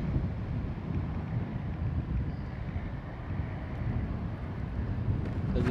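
Steady wind buffeting a microphone outdoors, a constant low rumble with faint water or surf noise beneath it.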